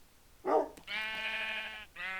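A short grunt followed by two drawn-out sheep bleats from a video game mod, clear and close, with a brief gap between them.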